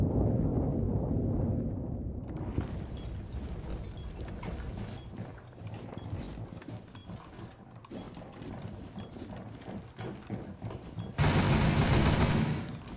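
Gunfire and mechanical game sounds in Rainbow Six Siege on the Stadium map, a dense continuous mix of shots and clanks with a loud burst near the end, no talk.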